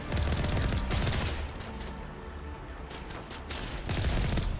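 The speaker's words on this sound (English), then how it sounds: "Yes, I was shooting Rocky." Sustained gunfire in the video game Mass Effect 1: a dense, loud fusillade of rapid shots that stays continuous throughout, easing slightly in the middle before building again, with no voices.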